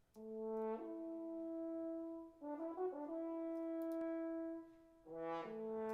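French horns heard from a microphone placed behind the player, with the bell pointing away: sustained, mellow brass chords that shift pitch in the middle, soft, distant and somewhat dull, with no talking.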